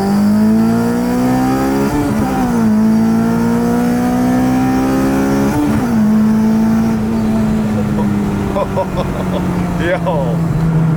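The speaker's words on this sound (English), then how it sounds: "When she gets into fourth gear, you can tell she's really starting to move." A car fitted with a Yonaka catback exhaust and VTEC engine pulls hard through the gears, a loud close droning note that climbs, dips at each shift, then rises again.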